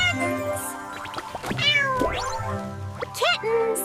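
Animated kittens in a children's number-counting song give several high, sliding meows, close and clear over the backing music.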